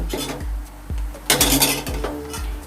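A series of metallic clinks and scrapes as a utensil lifts pieces of fried garlic from a pan, several distinct taps in irregular rhythm.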